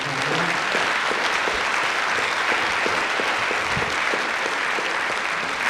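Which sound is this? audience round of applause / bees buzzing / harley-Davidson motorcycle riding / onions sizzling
audience round of applause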